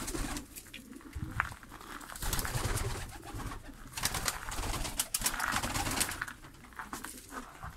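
German pigeon chicks cooing in a loft, soft repeated coos up close among rustling and shuffling sounds.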